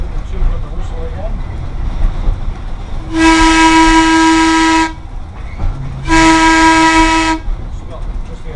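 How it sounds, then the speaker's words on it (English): Two long blasts of a steam locomotive whistle on engine 639, loud and close, each lasting over a second with a short gap between, over a low rumble of the moving train. "Little two on the whistle again."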